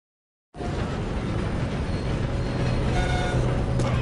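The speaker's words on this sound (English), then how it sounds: "Come on, we need to stop this train" A train in Red Dead Redemption 2 roars in abruptly after a moment of silence, then keeps up a steady, loud, continuous rumble of wheels and carriages with faint tonal whines running through it.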